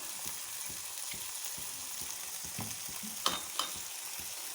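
Chicken for a club sandwich fries in a pan with a soft, even sizzle and faint rhythmic crackles, quiet and close, with a couple of brighter scrapes near the end.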